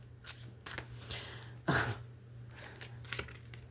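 Tarot cards shuffled by hand at low volume, a few soft riffling bursts with one stronger flurry midway, quiet background hum and no talking.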